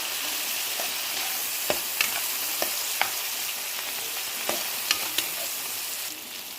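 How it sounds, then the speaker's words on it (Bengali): Tomatoes frying in a pan with salt, turmeric and chili powder give a steady close sizzle, broken by a handful of sharp spatula clacks against the pan at irregular intervals, with no voices. "নুন, হলুদ, লঙ্কা গুঁড়ো দিয়ে ভালো করে টমেটো গলা পর্যন্ত এটা ভাজা ভাজা করবো।"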